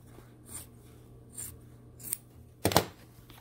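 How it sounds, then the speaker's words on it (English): Scissors trim quilt binding in four short, crisp snips spaced under a second apart, close and quiet, with the last cut the loudest. "I will trim this out."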